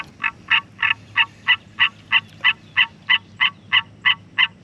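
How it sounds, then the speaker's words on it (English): A frog in a kayak croaks over and over in a steady, evenly spaced rhythm, about three calls per second, loud and close with no talking. "Sounds like I got a stowaway. Got a frog in the boat."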